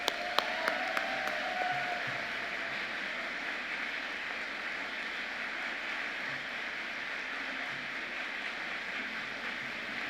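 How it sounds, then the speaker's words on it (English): Steady applause from the audience at a college convocation ceremony, opening with a few sharp claps before settling into an even, moderately distant patter that carries on for the rest of the stretch. "Please join me in a round of applause for Patty."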